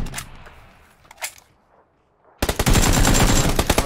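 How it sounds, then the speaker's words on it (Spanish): Sustained rapid automatic gunfire in PUBG on the Sanhok map, a loud dense burst of shots beginning after a few scattered quieter reports and a brief silence. "Me ha disparado alguien, creo"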